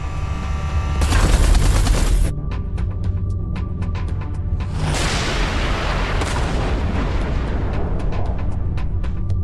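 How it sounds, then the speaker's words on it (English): Artillery fire in the space game Everspace 2: a heavy blast, then a rapid train of sharp repeated shots over a continuous roaring rumble, with a second loud burst midway, dense and loud throughout. "Watch out! The artillery!"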